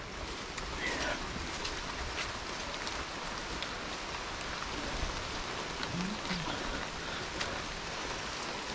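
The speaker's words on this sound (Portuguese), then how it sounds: "Chovendo aqui já no local." Steady rain falls outdoors at dusk, a continuous even hiss of drops with occasional faint louder patters throughout.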